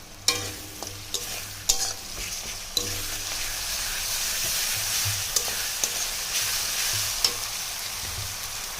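Ginger-garlic paste sizzles with softened onions in a pan for a chicken curry, a continuous hiss punctuated by sharp spatula scrapes and taps against the pan, close and unaccompanied by talk.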